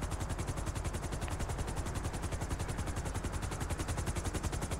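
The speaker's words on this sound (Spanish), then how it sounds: "Nunca había visto el helicóptero en online." A helicopter in GTA V Online thrums with a rapid, steady rotor chop, a dense and even beat held at moderate loudness throughout, with no voices.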